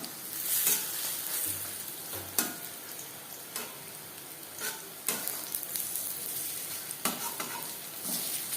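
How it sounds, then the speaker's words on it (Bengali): Cabbage pakoras frying in a pan give a soft continuous sizzle, broken by sharp scrapes and clicks as the pieces are turned, close and fairly quiet with no voices. "একটা সাইড ভাজা হয়ে গেলে অপর সাইডটা উল্টে দেবো।"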